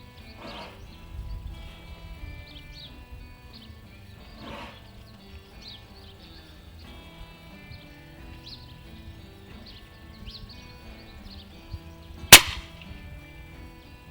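An FX Dreamline Classic airgun fires a single sharp, loud shot during outdoor pest control hunting, a sudden crack near the end after a stretch of quiet rustling, birdsong and faint wind.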